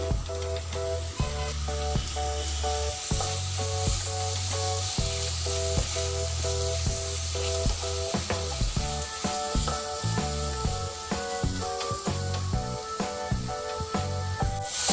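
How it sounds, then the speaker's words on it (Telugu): Boiled, chopped spinach fries in a pan with a loud, continuous sizzle that runs the whole time. Over it come repeated, rhythmic scraping and stirring strokes, close up, with no talking. "పాలకూర ఒక 2 మినిట్స్ ఇలా ఫ్రై చేసుకున్న తర్వాత"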